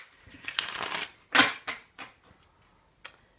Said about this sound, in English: we're just going to do a quick shuffle here